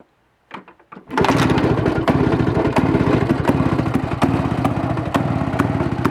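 A motorcycle engine coughs a few times, then starts and settles into a loud, steady, rattly idle close by, with no talking.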